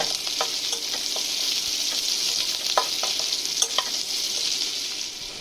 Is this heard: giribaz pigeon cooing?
no